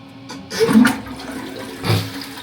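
Strong rushing water in a shower at a Brazilian jiu-jitsu training camp in Recife, with two swelling surges of flow that come close and loud and are heard alone, with no talking.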